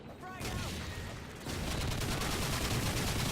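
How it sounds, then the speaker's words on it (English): Cluster grenades fired from a grenade launcher in Call of Duty 4: Modern Warfare set off a dense, continuous rumble of overlapping explosions that swells louder halfway through, with no distinct gaps between blasts. "so you can get up to 15 explosions in one go"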